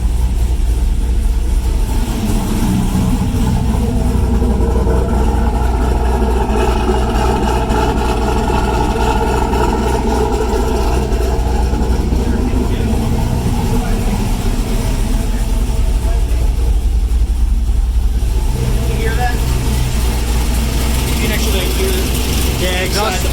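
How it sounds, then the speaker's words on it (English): A car engine idles steadily with an exhaust leak at the header, a continuous low rumble running throughout while people talk over it. "Yeah, exhaust leak."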